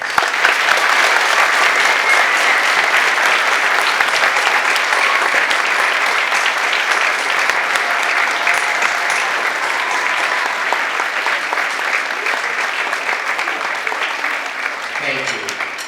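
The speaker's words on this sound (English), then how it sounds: "Please join me and our Columbus community in a round of applause for" An audience in a school gymnasium applauds veterans at a Veterans Day assembly, a dense, loud, sustained roar of clapping filling the whole stretch with faint voices mixed in.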